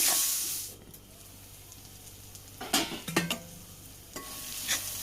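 Tomatoes sautéed and stirred in a pan for a kadala thoran, a soft sizzle under intermittent spoon scrapes and clinks against the pan, with a louder burst of stirring midway.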